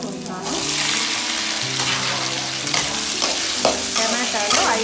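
Onions and tomatoes fry loudly in a pan, a dense, close sizzle that flares as the tomatoes go in, with occasional stirring scrapes layered on top.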